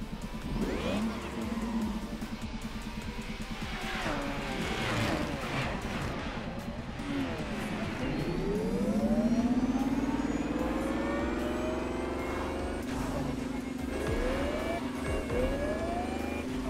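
Car engine in The Crew Motorfest racing game on O'ahu, a smooth, almost electric-sounding whine that rises and sweeps in pitch at high speed, steady and fairly close.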